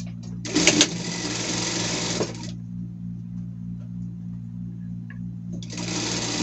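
A sewing machine stitches a seam on Easter pet clothing, running in a loud, fast burst for about two seconds, then falling quiet before starting again near the end.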